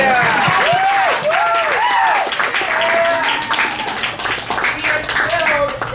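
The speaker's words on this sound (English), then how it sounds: "yeah, you can applaud" Theatre audience applauding at the opening of a new arts center theater, a dense wash of clapping filling the room throughout, with cheering voices and excited exclamations rising over it.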